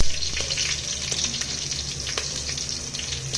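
Crushed garlic, chopped onion and green chillies fry in a clay pot for a Malnad-style fish curry, giving a steady close sizzle with soft crackles throughout.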